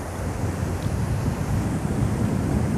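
Small sea waves of the Bay of Bengal wash steadily onto the Odisha shore at low tide. The surf rushes continuously without a break, roughened by wind buffeting the microphone, with no voices.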